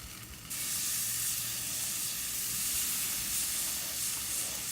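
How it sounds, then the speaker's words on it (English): Meat slathered in barbecue sauce sizzles loudly on a preheated grill, bone side down. A steady, close hiss and crackle starts abruptly and holds without a break, with no talking. "Hear that sizzle? That's why you want to preheat your grill."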